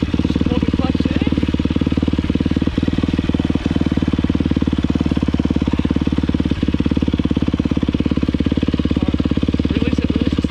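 Dirt bike engine running with the clutch being released slowly, a loud, steady, rapid chugging thump at close range with a few sharper knocks, over about ten seconds with no clear words.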